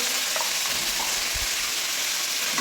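Spiced food with added salt and turmeric sizzles and fries steadily in a pan, a constant bright hiss with faint scraping stir sounds and a soft low knock midway.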